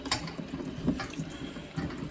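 Tomatillos are rinsed under a running kitchen tap, a close, steady splash of water with small shifting surges as the fruit is turned in the stream.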